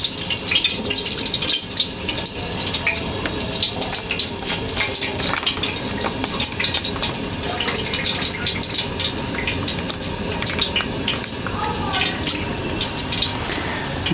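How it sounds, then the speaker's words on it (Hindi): One litre of oil goes into a large cooking pot for a 5 kg chicken pulao biryani, a steady close pouring and splashing rush with hissing and crackle running unbroken throughout, no voices. "सबसे पहले हम 1 लीटर ऑयल इसमें डालेंगे।"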